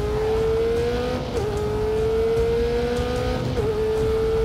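Ferrari 488 GTB lapping the Eboladrome in The Grand Tour racing game on Xbox One X, a loud steady engine drone holding high revs, briefly dipping twice as it shifts, with no talk.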